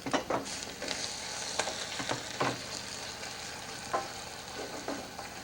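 Crisped onion and charred, cubed chili are stirred around in a pan with the heat off, giving scattered scraping clinks and light sizzling spread over several seconds, close and fairly quiet.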